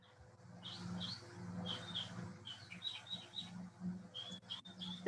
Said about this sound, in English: The birds are certainly a nice background, Michael.